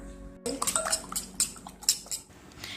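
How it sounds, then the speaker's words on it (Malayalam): A spoon clinks and scrapes against a pot while ingredients for a sweet layered pastry are mixed together, producing a quick irregular run of close metallic taps after a brief silence. "ഇനി ഇതെല്ലാം കൂടി നന്നായിട്ടൊന്ന് മിക്സ് ചെയ്തെടുക്കാം"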